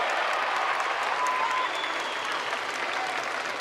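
Spectators clap in a dense, steady wave of applause throughout an indoor X-Trial motorcycle event, filling the space evenly at a constant level.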